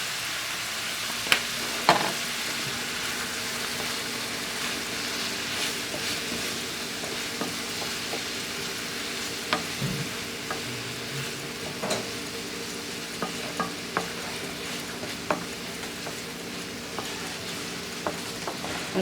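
Vegetables and meat with poultry seasoning fry in a pan, giving a continuous soft sizzle broken by scattered scraping clicks from stirring, heard close with no talking.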